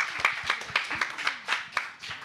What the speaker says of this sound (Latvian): Aplausi Madarai.